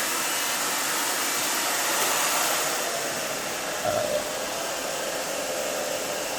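A hair dryer blows steadily on a head of hair during a soft pixie cut, a continuous airy roar held at a constant level from start to finish with no talking.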